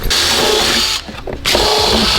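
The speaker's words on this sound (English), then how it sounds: "Love drilling into fresh paint or fresh carbon" A loud, close power drill drilling out a rivet through fresh paint and carbon whines steadily, stops briefly, then whirs up again at full speed.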